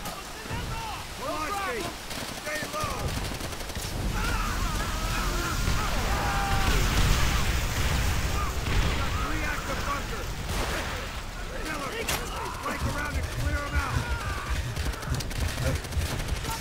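Sustained machine gun fire from an MG in Call of Duty: World at War on PC, a steady rattling barrage mixed with battle noise, running under a voice talking throughout.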